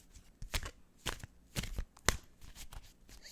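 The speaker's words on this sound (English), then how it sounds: "So I'm going to keep shuffling these until it feels like a right moment to stop." Osho Zen tarot cards being shuffled by hand, a series of crisp riffling bursts about every half second with soft rustle between, close and clear with no talking.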